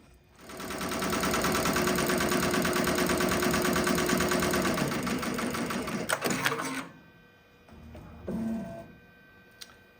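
An embroidery machine runs steadily through its final applique stitching, a dense rapid mechanical chatter for several seconds before it stops, followed by a brief softer whir and a faint click.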